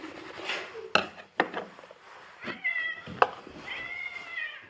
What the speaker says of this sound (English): So guys, that's my little kitty.